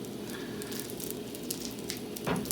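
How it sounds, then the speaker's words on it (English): Chorizo squeezed from its package sizzles in a hot pan in its own grease, a steady soft crackle with scattered pops, no voices over it. "You want to get the chorizo, and still out in the package, you want to go around like this in the pan."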